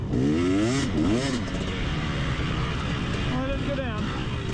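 KTM dirt bike stuck in sand at a cross-country race, its engine droning loud and close with wavering, rising and falling revs, and a voice audible over it.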